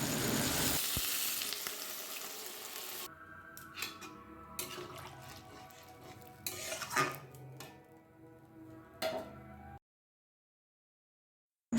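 Water poured into a pan of frying cauliflower and potato masala hisses in a loud, broad burst for a few seconds, then settles into a quieter simmer with scattered clinks of a utensil against the pan.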